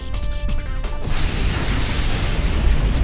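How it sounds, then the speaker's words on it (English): Slowbro explodes in a Pokemon Sword gym battle: a tonal game jingle cuts off into a loud, close burst, and a rumbling crash then fills the remainder. "there goes her Slowbro exploding"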